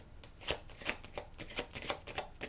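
Tarot cards are shuffled in a quick, close, crisp series of riffling flicks and soft slaps, with no voice over them.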